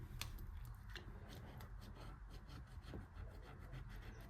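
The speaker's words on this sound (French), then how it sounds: "On va venir gratter une pastille." A coin or fingernail scratches the coating off a scratch-card sticker in close, quiet, repeated rasping strokes that come in a quick, uneven rhythm.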